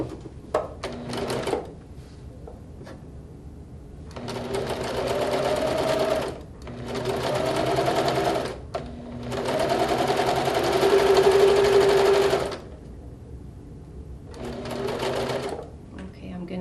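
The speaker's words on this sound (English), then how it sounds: "Go back to your sewing machine and we're going to sew the other side." A sewing machine runs in several bursts of steady, rapid stitching, pausing between runs, with a low whirring hum close by.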